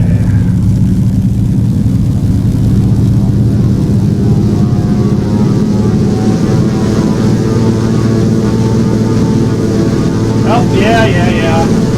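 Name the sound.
Thranda Beaver floatplane engine at takeoff, from a flight simulator game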